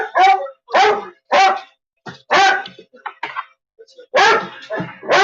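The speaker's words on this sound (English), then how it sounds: "You had to come over here barking?" A small dog barks repeatedly in sharp, loud bursts close by, several rapid yaps with short pauses between them, with a person talking around the barking.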